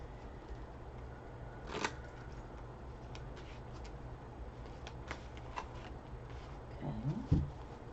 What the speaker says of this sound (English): So let me take a moment and pick some cards for us.